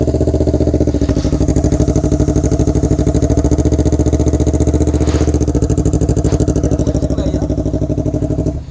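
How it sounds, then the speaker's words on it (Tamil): A Yamaha R3 motorcycle engine running close by, a loud, steady, buzzing idle with a fast even pulse and a few slight rises in revs, no talking. "Vignesh ப்ரோவோட R3 sound."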